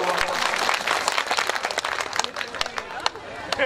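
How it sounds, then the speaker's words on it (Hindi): An audience at a poetry recitation breaks into dense, continuous applause, a crowd of many hands clapping loudly with some voices mixed in throughout. "एक बार तालियां बजा करके जरा सा हमको"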